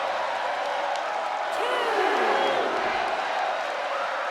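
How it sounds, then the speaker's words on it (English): A wrestling arena crowd roars in WWE 2K23, a steady loud wash of cheering with whoops rising through the middle. A brief tonal cry cuts through, with no clear talk over the noise. "The sound of this crowd is deafening, and he's asking for more"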